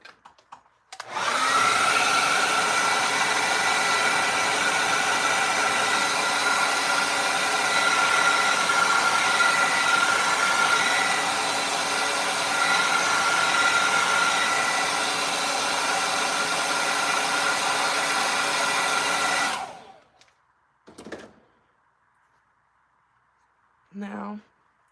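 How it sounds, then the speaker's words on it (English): A hair dryer drying acrylic paint on a turkey painting runs for about nineteen seconds as a steady, loud whooshing roar, then cuts off, followed by brief quiet clicks and handling sounds. "I need to get my hair dryer and dry this beak and eye area primarily"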